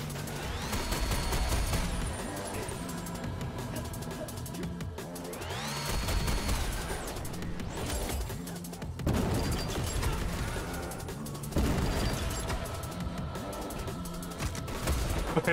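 Gunfire from enemies in the first-person shooter SPRAWL, dense bursts of shots and mechanical weapon noise over a steady game soundtrack, loud and continuous throughout.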